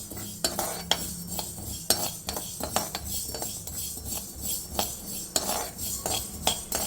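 Mustard seeds, about two spoonfuls, stirred with a metal spoon in a hot pan, giving steady scraping and clinking strokes with faint popping, close and alone with no talk.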